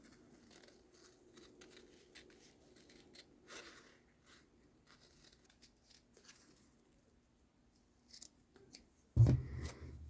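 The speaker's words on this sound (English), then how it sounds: "I'm just going to cut along my drawn lines." Fabric is snipped with scissors along drawn lines for an appliqué Christmas table runner, the cuts soft and close through most of the stretch before a louder burst of handling near the end.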